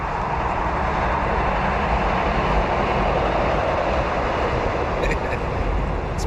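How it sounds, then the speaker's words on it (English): A train passes beside the Chicago River, a steady, loud rumbling roar that holds evenly for several seconds. "Got a train coming by."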